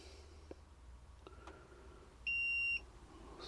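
An Otofic D1 Lite OBD reader gives one steady electronic beep of about half a second on connecting, clear against faint clicks and low room noise.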